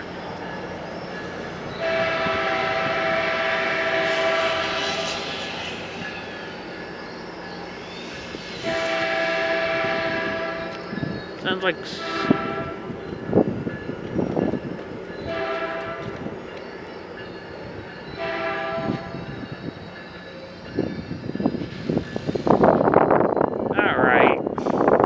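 A train rumbles loudly as it pulls into the Moorpark rail yard, sounding its horn in long blasts. Wheels clatter and clank near the end while a person talks over it.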